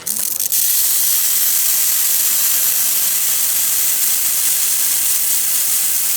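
A steady, loud steam wand hiss pours out continuously from a La Cimbali espresso machine after a brief click at the start, with no talking.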